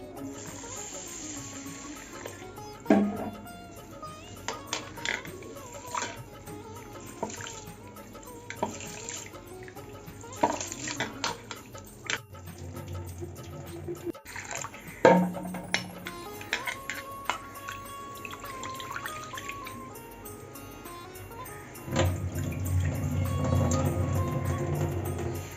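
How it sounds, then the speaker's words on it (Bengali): Running tap water fills a vessel as roasted mung dal is rinsed, with steady close gushing, splashes and clinks, and a heavier flow near the end. "ডালটা একটু ধুয়ে নিচ্ছি"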